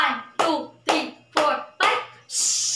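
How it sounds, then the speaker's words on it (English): A class performs a fireworks clap: five loud whooshing bursts of hands clapping in a steady rhythm, each swelling and fading, before a final sustained burst of sound. "So give yourself a fireworks clap again."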